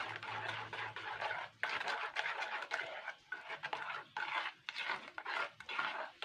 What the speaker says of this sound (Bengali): তো এবার আমি চামচটা দিয়ে আগে একটু ঘুটে নেব।